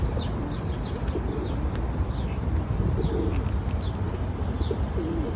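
A flock of pigeons crowds around a packet of food outdoors, cooing steadily and chirping now and then beneath a constant wash of background noise.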